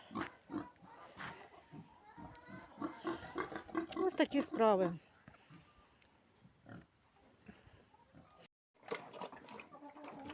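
Pigs in a pen grunt and squeal in rapid, close bursts that swell into a loud squealing flurry before dropping back to scattered snuffles, with a person talking intermittently.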